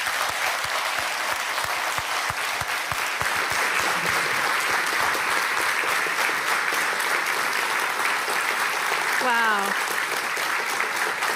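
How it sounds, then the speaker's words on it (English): Sustained audience applause fills a hall at the NATO Youth Summit in Brussels, a steady wash of many hands clapping, with one voice briefly exclaiming near the end. "Please, a round of applause."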